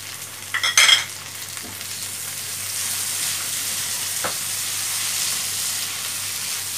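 Chopped tomato hits a pan of frying okra and onion with a brief clatter of stirring, then settles into a steady, moderate sizzle.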